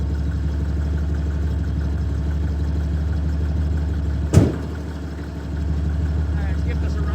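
A 1965 Chevy C50 grain truck engine idles with a steady low rumble, broken by one sharp knock and a brief dip in the running before it settles back to a constant drone.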